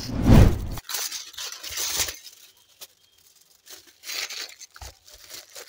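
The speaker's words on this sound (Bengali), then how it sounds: "আরেকটি আমকে আমি ফয়েল পেপারের সঙ্গে জড়িয়ে রেখে দেবো" A mango being wrapped in foil paper: a loud crinkling, tearing burst up close, followed by softer intermittent rustles and crumples with quiet gaps between them.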